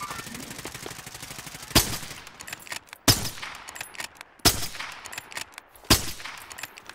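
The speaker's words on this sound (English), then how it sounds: "this sniper sounds very... Crispy" Four sharp sniper rifle shots crack out in a Warzone match, each a loud abrupt report spaced roughly a second and a half apart, trailing into a short echo over a low steady background.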